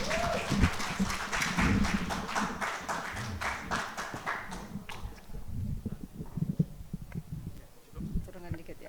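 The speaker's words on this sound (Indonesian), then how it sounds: "Boleh berikan tepuk tangan yang meriah Bapak Ibu hadirin" Audience applause at a Partai Demokrat Kalimantan Barat party event, a fairly dense clapping that carries on for several seconds and then thins out into a few scattered claps, with room noise and faint voices.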